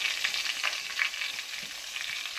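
Green chillies frying in hot oil for a chilli curry, a steady close sizzle with crackling pops and stirring scrapes, no voices.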